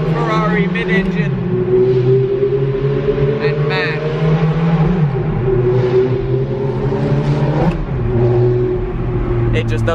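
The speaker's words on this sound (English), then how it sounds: "The last manual V8 Ferrari mid-engine." Manual mid-engine V8 Ferrari driving hard and revving, its engine note climbing and dropping through gear changes, loud and close for the whole stretch.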